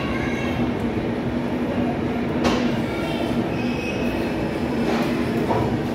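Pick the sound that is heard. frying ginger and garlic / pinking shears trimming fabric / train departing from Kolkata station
train departing from Kolkata station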